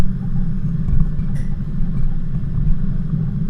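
Car engine labouring on a long steady mountain climb on a road near Mt Gibbo, a continuous low droning rumble with a steady tone and no breaks.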